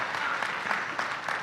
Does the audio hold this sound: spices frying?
no